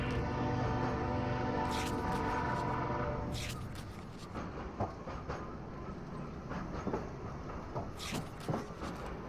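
A train rides along the rails in the Into the Radius video game, with a steady rumbling clatter that fades after a few seconds into quieter ambience punctuated by occasional sharp metallic clicks.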